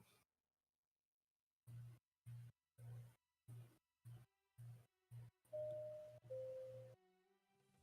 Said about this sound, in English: What's the doorbell sound?